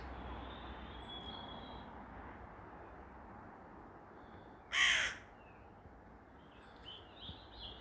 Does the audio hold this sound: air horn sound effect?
no